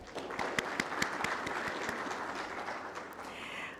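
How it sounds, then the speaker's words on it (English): Attendees at a business summit applaud the event's partners, a short burst of dense clapping with a few sharp nearby claps standing out, sustained evenly to the end. "Can we please have a huge round of applause for them?"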